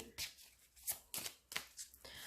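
Singular Magic oracle card deck shuffled by hand, a run of crisp riffling bursts and flicks in irregular rhythm, close and fairly quiet, with no talking.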